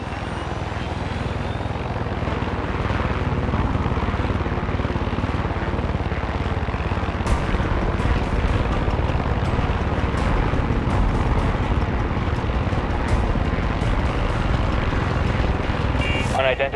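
An aircraft drones overhead in Far Cry 6, a steady loud engine roar that persists throughout with a brief rise partway through.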